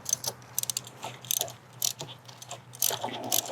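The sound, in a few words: 13 mm ratchet removing bolts on Audi A4 transmission filter lines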